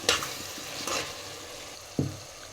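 Chili powder being stirred into a tamarind curry of raw prawns and okra in a pan, a few soft scraping stirs over a gentle sizzle, close and alone.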